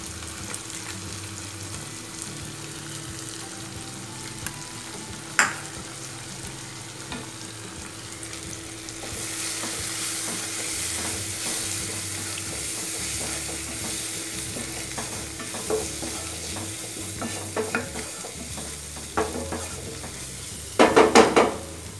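Spoon stirring sambar powder into sautéed carrots and beans in a pan for moong dal sambar, with a steady soft sizzle and scraping, a few sharper utensil clinks near the end, no talk.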